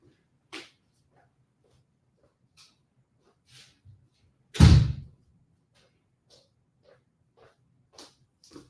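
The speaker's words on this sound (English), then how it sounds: "I want to close the door." A door is pushed shut indoors, landing as one loud, solid thud in a mostly quiet room with faint background noise and a few small taps around it.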